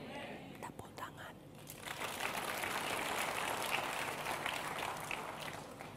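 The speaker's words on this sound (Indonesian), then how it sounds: "Tepuk tangan." A church congregation breaks into sustained applause during a sermon, the clapping swelling after a couple of seconds into a dense, steady patter that carries on to the end.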